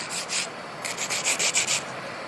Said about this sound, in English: when you file it with a drill